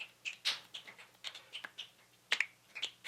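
Finger snaps and hand claps, a series of sharp, close, dry clicks and pops in an irregular rhythm, with a louder clap near the end, in a quiet room with no talking.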